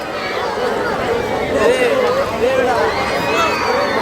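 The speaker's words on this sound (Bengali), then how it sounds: "সবাই চিল্লাচ্ছে তারপরেও এটাতে উঠে মজা লাগে তাদের" A crowd of riders shouts and screams on a magic boat swing ride at the Comilla trade fair, with loud overlapping voices and rising yells amid general fairground chatter.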